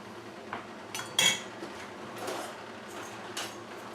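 A metal whisk scrapes and knocks against the bottom of a pot while deglazing a game stock with wine vinegar, giving a few short clinks and scrapes, one sharper knock, then softer rasps, close and fairly quiet.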